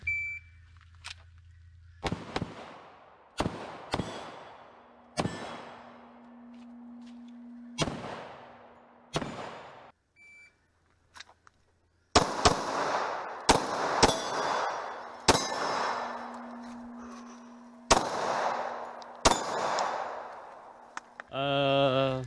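Pistol shots ring out during IDPA-style shooting practice, sharp loud cracks spaced a second or two apart with ringing decay, a pause midway, then another string of shots followed by a rattling clatter.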